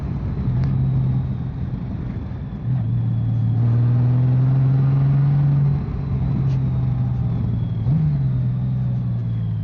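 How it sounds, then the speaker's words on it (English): A Honda Goldwing touring motorcycle with a six-speed manual gearbox growls steadily through its exhaust while riding along Route 276 near Caesar's Head, a continuous low engine drone with slight pitch rises as the throttle shifts. "Got a little sporty growl to the exhaust."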